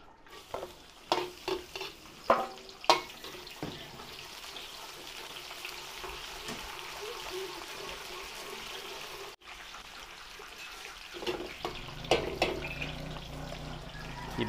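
Garlic and onion sautéing in oil in a pan for Filipino kilawin, a steady close sizzle with several sharp stirring clatters near the start and again toward the end, and no talk.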